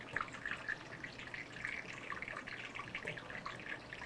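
Leeks frying in a pan as their water cooks off, a faint continuous crackle and fizz of small popping bubbles, steady and close, with no talk.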